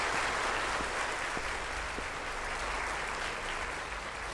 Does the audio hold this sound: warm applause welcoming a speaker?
yes